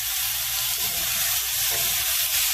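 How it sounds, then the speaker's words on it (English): Avocado oil sizzles steadily with garlic in a hot pan, a continuous bright hiss of frying held at an even level for the whole stretch, close and with no voices. "I'm going to add a little bit of avocado oil to it"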